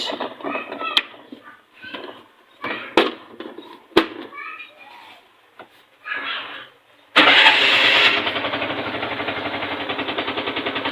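A TVS King Deluxe three-wheeler that is hard to start cranks and catches, settling into a loud, steady idle after brief attempts, with people and children talking nearby beforehand.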